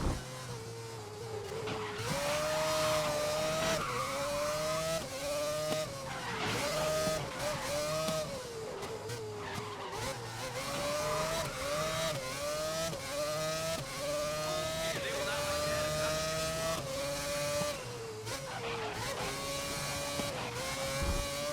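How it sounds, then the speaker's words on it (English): A Renault R26 Formula 1 car racing around the Sepang circuit in GRID 2019, its engine screaming loudly through repeated upshifts and downshifts, pitch climbing and dropping sharply over a continuous lap with no talk. "I'm going to give you guys just a little bit of audio throughout some of this lap."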